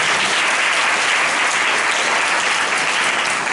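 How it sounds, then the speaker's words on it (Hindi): A church congregation claps together in praise of Jesus, a dense, steady burst of applause filling the room for several seconds. "एक बार फिर से ताली बजाएंगे यीशु के लिए।"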